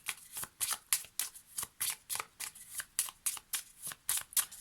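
A deck of Lenormand cards being shuffled in quick repeated riffles, about a dozen close, crisp bursts in steady rhythm with no talking.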